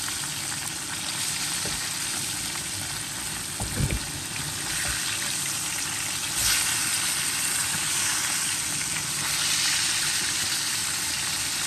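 Fish sizzles and crackles in hot frying oil with a steady, loud hiss that lasts throughout, broken by a few sharper pops and spatters, with no talking.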